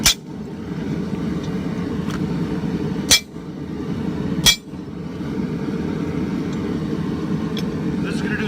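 Two sharp, isolated hammer blows on hot steel, struck to set fullers while forging a rounding hammer by hand without a striker or power hammer, ringing out over a steady low background rumble.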